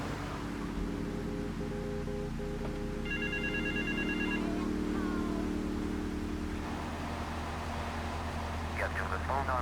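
Telephone ringing in the GTA 3 Definitive Edition video game on Liberty Campus, a repeated electronic ring pattern heard briefly over steady car engine noise and game ambience, with a talking voice present.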